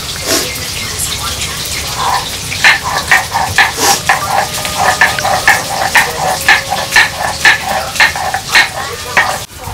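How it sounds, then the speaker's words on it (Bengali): Small fish frying in a pan at an outdoor family picnic, with a steady sizzle and repeated stirring scrapes, loud and close, and people talking faintly underneath. "অল্প করে 2 সাইডে মাছগুলো ভেজে নেবো"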